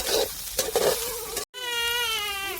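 Soybean chunks sauté in oil with a close, crackling sizzle and stirring; after a brief cutoff, the frying hiss continues beneath a sustained whining tone.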